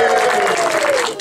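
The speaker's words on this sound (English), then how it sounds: "I think another cheer for her." A live audience at a game-show style event in Eastbourne breaks into loud, continuous applause and cheering, with a tonal whistle or voice gliding over the crowd noise.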